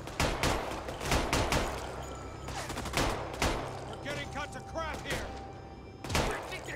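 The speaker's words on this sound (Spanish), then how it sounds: "Te están disparando, en el culete, ¿eh?" Bursts of gunfire in the World War II shooter Raid: World War II: repeated sharp shots and short automatic volleys at irregular intervals, with someone talking over the in-game action.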